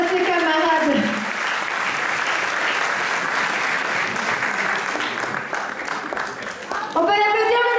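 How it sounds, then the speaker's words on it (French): An audience at a pageant applauds steadily for the Miss Sympathie sash winner, with dense sustained clapping that fades slightly near the end as a voice begins speaking over it. "On peut l'applaudir, mesdames et messieurs"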